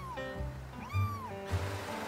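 A tiny rescue kitten meows close by, several short rising cries in quick succession, fairly faint against a soft background hiss.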